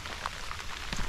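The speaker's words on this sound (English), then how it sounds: "it's pissing with rain" Heavy rain falls in a wet British Columbia forest, a dense, close patter of drops hitting leaves and ground with no voices over the brief stretch.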